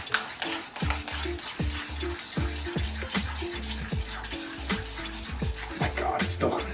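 Mayo being vigorously mixed into a sauce, rapid rhythmic scraping and clinking of a utensil against a bowl, steady and continuous at close range.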